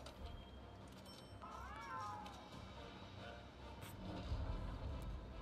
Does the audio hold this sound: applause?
no